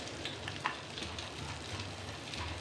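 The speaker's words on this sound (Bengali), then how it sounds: "রসুনগুলো ভাজা হয়ে গেছে।" Chopped garlic sizzles in melted butter in a pan over medium heat, a steady close crackling fry with small pops, no talk.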